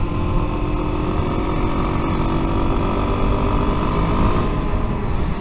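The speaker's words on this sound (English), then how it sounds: "A grindy sixth gear. Very grindy." Kawasaki KLX250S motorcycle engine running loud and steady in sixth gear with a rough, grinding gearbox, a continuous dense mechanical drone with no talk over it.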